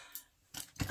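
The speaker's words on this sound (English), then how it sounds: "I didn't think I was going to need scissors." Scissors are handled while a diamond painting club box is unboxed, giving a few quick, close metallic snips and rustles in short bursts against near silence.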